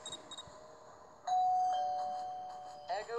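A doorbell rings inside a house in a video game, one clear sustained electronic chime that fades slowly, followed by a brief second tone, with faint background noise and no speech.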